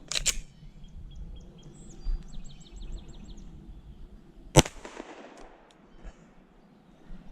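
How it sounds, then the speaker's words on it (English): Pistol fire from the first magazine through a Fusion Firearms XP Pro, with a sharp shot at the start and another loud crack midway, amid faint clicks and low background rumble. "that was the first mag through the Fusion Firearms XP Pro"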